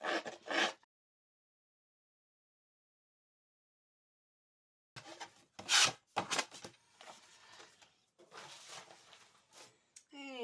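Rasping, rubbing strokes on the edges of a paper card being roughed up for card making: a short burst, then a long silence, then a run of scraping strokes, close and fairly quiet.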